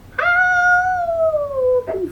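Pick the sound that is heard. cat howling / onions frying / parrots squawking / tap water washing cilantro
cat howling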